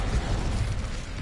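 A Confringo fire spell blast from Hogwarts Legacy roars as a continuous, loud burst of crackling, booming energy, heard alone without talk.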